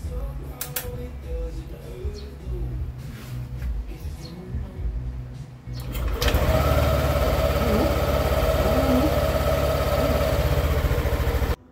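A Yamaha Aerox 155 scooter that had trouble starting catches on its third attempt. Clicks and short cranking noises give way to a steady, loud idle that runs to the end.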